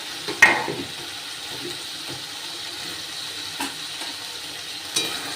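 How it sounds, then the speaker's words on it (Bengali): Fried potatoes go into sizzling spiced masala in a pan for a low-oil vegetarian paneer dish, making a soft, steady sizzle with a few light knocks and stirring clicks. "এবার আমি আলুটা দিয়ে দেবো আলুটা একটু ভেজে রেখেছি"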